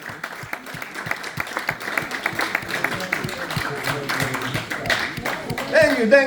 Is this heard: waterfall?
no